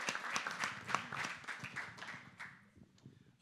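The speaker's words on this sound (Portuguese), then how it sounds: "Palmas!" An audience at a poetry and publishing event claps in a brief, uneven round, individual hand claps distinct and close at first, then thinning and fading out after a few seconds.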